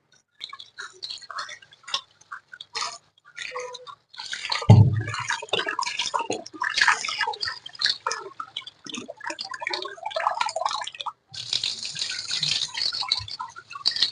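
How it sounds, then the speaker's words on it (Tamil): Flattened rice (aval) is rinsed in water by hand, giving an irregular run of close splashes, drips and sloshing that grows busier midway, with a brief louder burst of water near the end. "இது தண்ணி விட்டு நல்லா அலசி எடுத்துக்கணுங்க"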